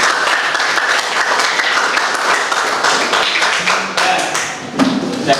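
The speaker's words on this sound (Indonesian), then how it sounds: "Tepuk tangan untuk Indra." A group gives steady applause for a student at a teacher-training mentoring session, dense clapping held at a constant level throughout, close and loud.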